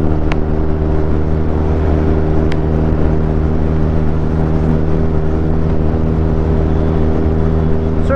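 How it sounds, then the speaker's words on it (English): The inline-four engine of a Kawasaki superbike runs loudly and steadily on a road ride, a dense, continuous drone with strong low harmonics and slight rises in pitch throughout. "it's an inline 4 motor"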